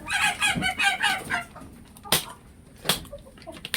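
A chicken clucks in a short, rapid burst of close calls, followed by quieter pauses broken by a couple of sharp noises.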